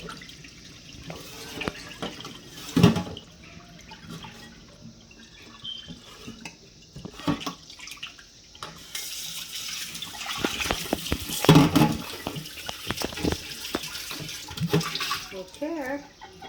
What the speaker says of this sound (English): you wash it until the water becomes clear.